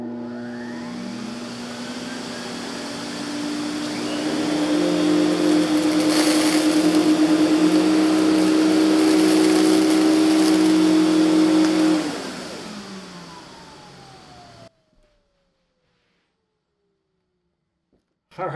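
An old gray-market ElektraPure vacuum cleaner on its lowest setting whines steadily as it picks up debris and pet hair, building to a loud sustained drone before shutting off and spinning down into silence.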